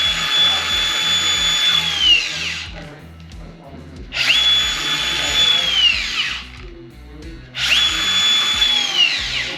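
Hilti Nuron AG636 cordless angle grinder whining loudly in three separate bursts, each spinning up, holding a high steady tone, then winding down quickly as the disc brake engages, with quiet gaps between runs.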